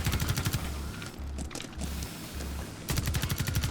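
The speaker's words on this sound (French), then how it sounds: "Visez les points d'ancrage et tirez quand ils sont ouverts." Bursts of gunfire in the Rainbow Six Extraction video game, loud rapid rattling volleys at the start and again at the end, with a rhythmic low pulsing in the gap between them.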